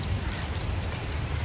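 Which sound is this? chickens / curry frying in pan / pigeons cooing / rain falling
rain falling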